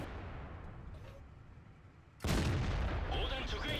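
Artillery fire in the World of Tanks video game on the Murovanka map booms suddenly after a quiet stretch, a loud blast followed by sustained rumbling battle noise.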